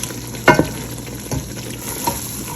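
Mutton and spinach stir-fry in a pot with a low steady sizzle, broken by a few close scrapes and clanks of the spoon against the pot, no talking.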